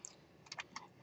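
Quick bursts of typing on a computer keyboard, several crisp keystrokes close by in a short run, as when entering a command at a Windows command prompt, with no talk.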